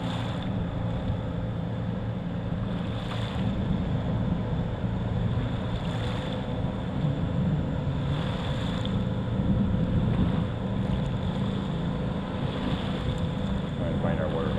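A scale RC model airplane flies outdoors with a steady engine drone, passing repeatedly with slight swells in loudness while wind buffets the microphone.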